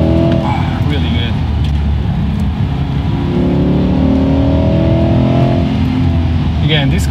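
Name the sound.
Chevrolet Corvette C8 accelerating through the gears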